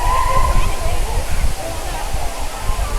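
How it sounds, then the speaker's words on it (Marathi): A large waterfall in the Nanemachi jungle of Maharashtra pours with a steady rushing wash, heard under loud nearby talk, with wind-like low rumble throughout. "सो खूप छान आहे हा धबधबा"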